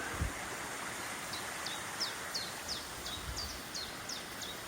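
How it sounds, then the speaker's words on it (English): A chiffchaff repeats a rhythmic two-note call, a sharp high chirp about every third of a second, over the steady rush of a nearby stream in Wales. "It's called a chiffchaff."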